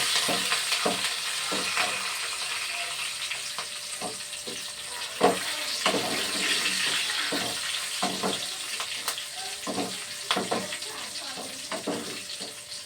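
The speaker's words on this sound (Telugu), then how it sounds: "వెల్లుల్లిపాయలు వేస్తున్నాండి. మిరగాయలు వేస్తున్నానండి." Garlic and chillies fry in hot oil in a pan, a steady close sizzle broken by scattered sharp pops and crackles, with quiet spoken commentary in Telugu partly underneath.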